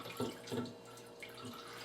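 Whey drips from a cloth bag of farmhouse cheddar curd hung to drain, giving a few soft, close wet drops and trickles at irregular intervals in a quiet room.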